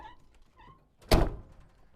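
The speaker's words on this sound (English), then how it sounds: "you can see how these doors close" A car door on a 1956 Chevy Bel Air four-door hardtop sport sedan swings shut with one solid, loud thunk, heard alone against quiet surroundings.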